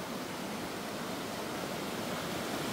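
A waterfall in the Maredumilli hills near Gudisa gives off a steady, dense rushing roar, loud and unbroken throughout, with no voices over it.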